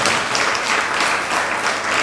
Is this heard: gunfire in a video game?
no